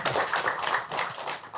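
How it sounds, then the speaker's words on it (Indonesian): Audience clapping at an Indonesian talk-show gathering, a dense, steady patter of many hands close by, filling the whole short moment without any talk over it. "Tepuk tangan dulu dong."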